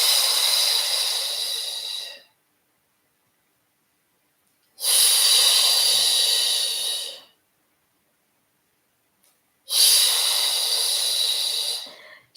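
Three long, loud breaths of about two seconds each, separated by silent pauses, repeat in a steady rhythm during the Pilates hundred exercise.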